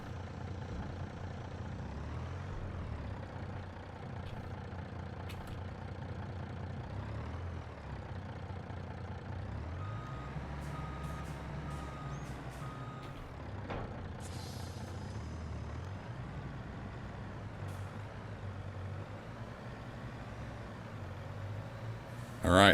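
A logging truck in a forestry video game drives on gravel and then backs up, its engine droning steadily with air-brake hisses and short electronic beeps, loud and close, with no talking.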